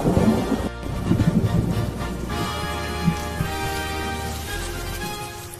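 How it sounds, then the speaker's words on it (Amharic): A heavy rainstorm with thunder: a rumbling crash and downpour at first, then a steady wash of rain under a sustained tonal musical bed, moderately loud. "በዚያን ጊዜ ሰማዩ በደመናና በነፋስ ጨለማ ሆነ፣ ከባድ ዝናብም"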